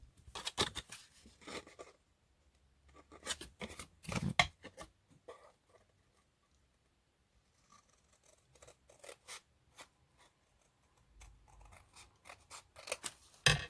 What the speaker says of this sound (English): I'm going to cut this bit off.